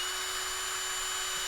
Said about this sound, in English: you want to drill at a bit of an upward angle